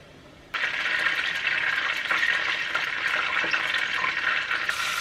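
Oil sizzling steadily in a pan after a Popeyes-style chicken sandwich goes in: a sudden loud onset of frying hiss that holds at an even level with small pops.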